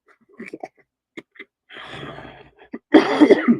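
A burst of harsh coughing up close, one rough cough then a heavier cluster of hacking coughs, preceded by scattered small mouth and breath noises.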